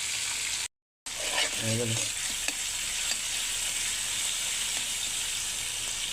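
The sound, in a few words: tomatoes sizzling as they are added to the pan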